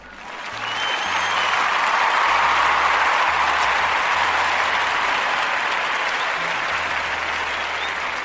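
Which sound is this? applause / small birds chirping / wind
applause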